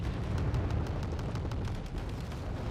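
A TOS-1 Buratino thermobaric rocket barrage in Wargame Red Dragon pounding a forest, a dense stream of overlapping booms and rapid impacts rolling continuously over heavy low rumble.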